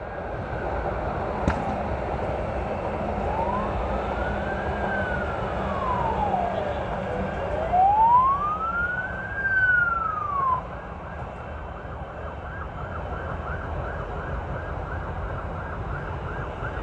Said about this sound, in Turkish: İtfaiye geldi bu arada.